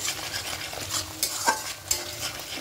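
A spoon stirs salt into spices in a pan for vegetarian aloo dum: steady scraping and rustling with a few sharper clinks against the pan and a faint sizzle underneath, close and fairly quiet.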